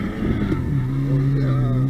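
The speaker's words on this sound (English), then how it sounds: "I'm gonna do this brake boost." BMW 328i with bolt-on modifications revving during a brake boost before launch, a loud steady engine drone whose pitch dips then holds, heard from close range with a voice briefly underneath.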